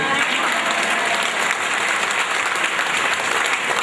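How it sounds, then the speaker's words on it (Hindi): Clapping breaks out among a small gathering at a Sunday family satsang, a brisk, close burst of applause lasting a few seconds with no talk over it. "ताली तो सिर्फ 5 लोगों ने बजाई"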